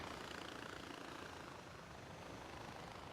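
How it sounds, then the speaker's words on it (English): Helicopter in the video game Far Cry 4: a steady, fairly quiet rotor and engine drone that runs continuously through the whole stretch with no talk over it. "We're just gonna set down our little helicopter friend."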